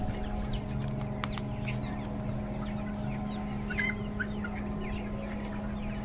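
Many 50-day-old Golden Mix laying hens cluck throughout a poultry shed, scattered short clucks near and far over a steady low mechanical hum.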